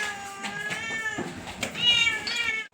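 A cat meows repeatedly at close range, several drawn-out, rising and falling cries in quick succession with little else around.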